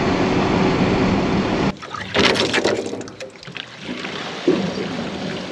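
Water gushes steadily out of a tank on a farm vehicle, then cuts off abruptly, leaving scattered splashes, trickles and drips against quieter background noise.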